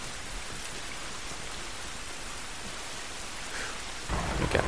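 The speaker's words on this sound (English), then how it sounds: "You remember what I said before about rain being calming when there's no lightning? Well, now there's lightning." Steady heavy rain hisses through a thunderstorm in The Last of Us, a broad constant wash with a swelling rumble of thunder near the end, no voices.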